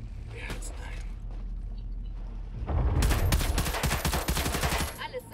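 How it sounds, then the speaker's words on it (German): Gunfire in the video game Metal Gear Solid: after a stretch of low game ambience, a loud, rapid burst of automatic shots rattles up close, with mechanical clatter mixed in before it tapers off. "Knallt sie ab."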